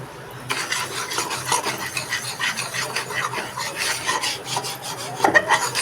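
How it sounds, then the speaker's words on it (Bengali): Flour being stirred into melted butter in a pan for a white sauce, a close, continuous rasping scrape of spoon against pan with a faint sizzle beneath. "আমি এটাকে ভালো করে মিশিয়ে নেব"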